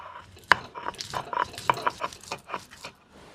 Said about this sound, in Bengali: এবারে বেটে নেব 2 রকম বাদাম।